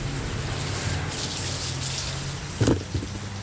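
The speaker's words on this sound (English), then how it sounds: "I'm going to water all of those plants." Water runs steadily from a hose or tap while garden plants are watered, a continuous low hiss and gush with a brief splashy surge near the end.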